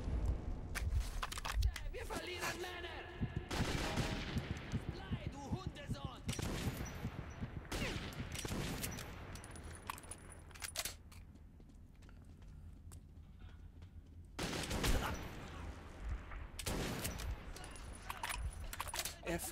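Bursts of gunfire in the first-person shooter Metro 2033, loud clusters of shots separated by quieter stretches, with someone talking over the action.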